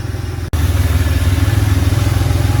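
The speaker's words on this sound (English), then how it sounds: "It's been running for a few minutes now, still idling nice and steady." A Porsche 911SC's air-cooled flat-six engine idles loud and close, with a steady, even pulsing rumble, briefly broken by a short cut near the start, and no voices over it.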